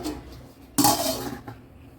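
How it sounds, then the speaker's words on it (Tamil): A loud metallic scrape and clank of a pot or ladle as more kulambu curry is transferred into another pot, followed by a softer knock and fading clatter in a kitchen. "வேறு பாத்திரத்தில் மாற்றிக்கலாம்"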